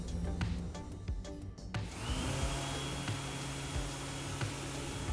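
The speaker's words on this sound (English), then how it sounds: "The automatic sink works well with plenty of soap and an electric hand dryer." Electric hand dryer in a commuter train bathroom, starting up after a couple of seconds of clattering, then a steady loud blowing roar that runs to the end.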